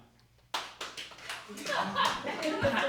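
A comedy club audience starts clapping after a quiet moment: a few scattered claps first, then applause and laughter swelling into a fuller, steady round from a sizable crowd.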